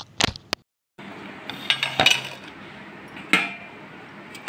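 Utensils clink and scrape against dishes while chicken liver pepper fry is served at home, a few sharp metallic taps and clatters close by with soft scraping between them.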